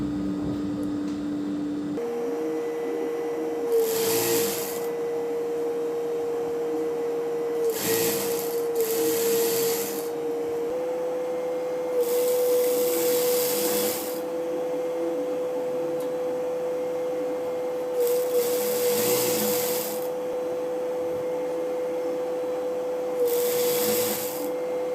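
A sewing machine stitches thread piping in short repeated bursts, each a few seconds of whirring needle clatter separated by pauses filled with a steady electric hum.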